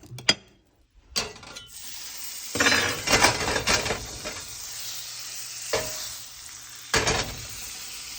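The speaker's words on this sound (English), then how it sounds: "And we're gonna just throw some butter." Butter sizzles in a hot pan with sweet potato on the stove, starting with a few clatters and scrapes, then a steady crackling fry broken by louder bursts of stirring, close and fairly loud with no talk.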